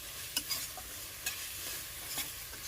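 Spice masala sizzling in a kadai with a splash of water for a chicken masala, stirred with a few soft scraping knocks over a steady broadband hiss, close and fairly quiet, no voices.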